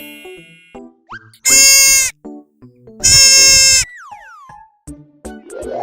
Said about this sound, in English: Deer.